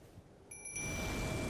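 A summoning bell rings in Elden Ring: a single bright chime strikes partway in and hangs on as a sustained ringing tone over low background game ambience.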